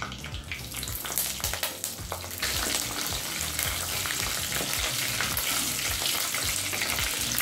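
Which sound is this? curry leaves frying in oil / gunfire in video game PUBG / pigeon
curry leaves frying in oil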